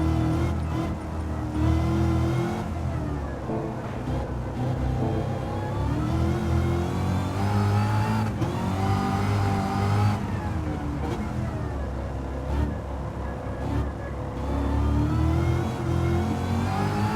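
A Gran Turismo 7 race car engine drones continuously, rising and falling with gentle throttle and gear changes, a loud steady interior-view engine tone throughout with no speech.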